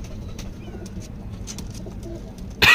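A male Teddy pigeon held up for sale gives soft, low cooing close by amid faint background rustle, and a sudden loud rustle or thump follows at the end.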